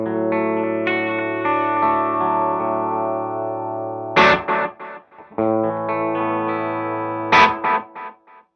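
An electric guitar runs through a Donner Versa Yellow Fall II delay and reverb pedal with distortion, playing loud sustained driven chords that trail off into echoing repeats. Two sharp strummed bursts stand out, each followed by decaying delay tails.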